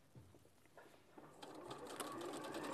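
A sewing machine stitches a seam on a sturdy bag, starting with a few slow, separate clicks and then speeding into a steady, loud mechanical whir close by.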